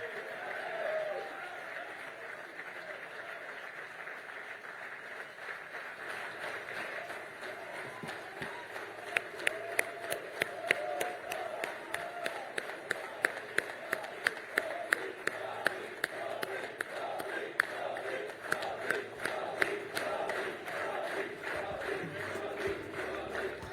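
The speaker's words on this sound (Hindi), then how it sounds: "ये तालियों की गड़गड़ाहट बनाए रखिए" At the Global Business Summit 2026, a large audience claps from a distance. The sound is faint and steady, then settles into a rhythmic, evenly spaced beat of claps in the second half.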